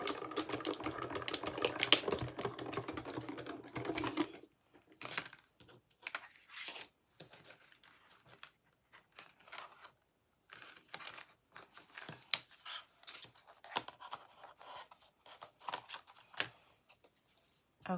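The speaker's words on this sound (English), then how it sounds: "we're gonna get this ran through the machine." A Diamond Press die-cutting machine runs cardstock through its rollers, giving a dense, steady mechanical crunching and clicking for about four seconds, followed by scattered lighter paper crinkles and handling taps.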